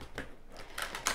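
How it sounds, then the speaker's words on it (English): Tarot cards shuffled by hand before a reading, giving a few quick, soft papery riffles and taps close to the microphone, with no voice present. "So we just shuffle these once again just before we start."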